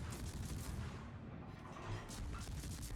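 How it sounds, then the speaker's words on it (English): Front guns of the Italian destroyer Alberico Da Barbiano firing in World of Warships, a dense, continuous rumble of rapid booming shots blending together at steady loudness. "And we gun him down relentlessly. Just with our front guns in this case."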